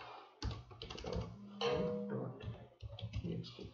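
Typing on a computer keyboard while entering commands in a Kali Linux terminal, a steady run of fairly close clicks and taps in irregular bursts with brief pauses, no talking.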